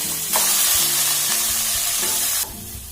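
Masala spices sizzle and fry steadily in a hot pan while being stirred, a dense continuous hiss with occasional scraping of the spoon, close and loud throughout before easing slightly at the end.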